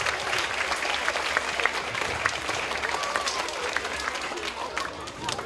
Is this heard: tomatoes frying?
no